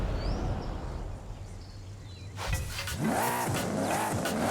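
A rear-wheel-drive car with a 6.2-litre V8 making 750 bhp and custom drift camber, in Forza Horizon 5's Mexico drift club, starts up after a quiet stretch and revs and roars loudly with rising and falling engine pitch.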